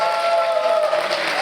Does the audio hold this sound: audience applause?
yes